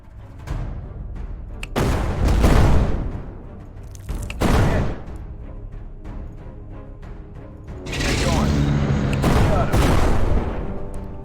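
Heavy naval guns from a battleship in a WWII Allied invasion of Italy strategy game boom out in several loud, separate blasts. Each one rolls into a long rumbling decay, and the last blasts come in a quick cluster.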